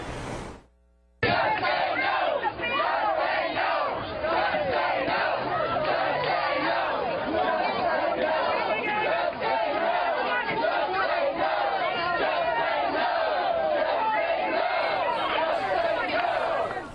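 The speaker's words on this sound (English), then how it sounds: "What you may or may not be able to make out there is the crowd yelling" A loud crowd yells and chants together at a town hall event held at a grocery store in Austin. The roar is dense and sustained after a brief quiet opening, with shouted voices overlapping throughout.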